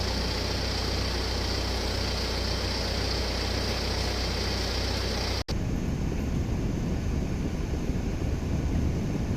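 A Mitsubishi Triton pickup truck with engine overheating idles in a steady low hum, wind buffeting the microphone, briefly cutting out midway before resuming at the same level.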